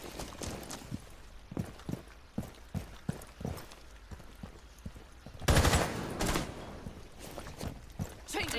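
Rainbow Six Siege gunfire comes as a fast run of sharp shots and clacks, rhythmic and close, with a louder dense burst midway before the rapid shooting picks up again.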